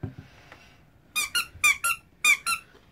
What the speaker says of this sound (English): First, we have his little squeaky toy.